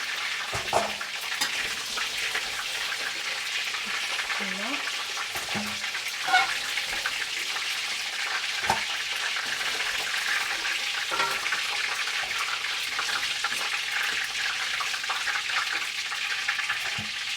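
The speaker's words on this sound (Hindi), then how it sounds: "ऑयल गरम हो गई, इसमें मैंने गोश्त भी डाल दिया। अब गोश्त को भी जो है ना हमने इसी तरीके से फ्राई करनी है।" Gosht (meat) frying in hot oil, a steady close sizzle and crackle throughout with occasional stirring knocks and spatters, no voices.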